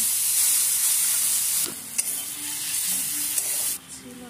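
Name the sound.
spice mix frying with baby potatoes in pan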